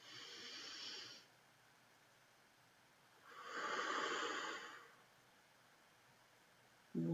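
A slow, deep breath in, drawn as a soft airy rush from about 3.3 to 4.8 seconds, following an earlier shorter breath, close to the ear in an otherwise quiet room.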